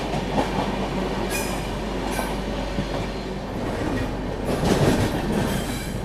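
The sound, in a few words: Garib Rath train rakes passing at Begumpet station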